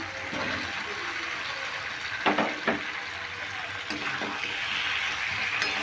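Fried jackfruit and potato dropped into hot oily masala, giving a steady sizzle with a few sharp splashy bursts as the pieces are stirred in.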